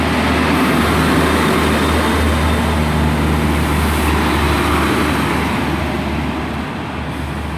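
A Northern class 144 diesel train departs Huddersfield station with a loud, steady low engine rumble that continues throughout and eases slightly toward the end. No one speaks.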